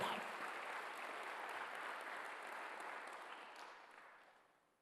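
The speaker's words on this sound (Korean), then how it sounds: "박수를 하나 더 해주세요." A church congregation applauds together during a Sunday worship service, a dense, steady wash of clapping that holds for several seconds before fading away at the end.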